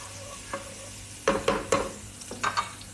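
Onion dropped into hot oil with browned garlic in a pan, sizzling steadily while a utensil scrapes and stirs in several short, close bursts.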